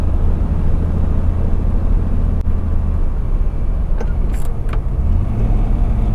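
A 63-year-old car motor drones steadily under load at about 35 mph in 110°F heat, a low continuous rumble with road noise and a few brief higher-pitched squeaks near the end.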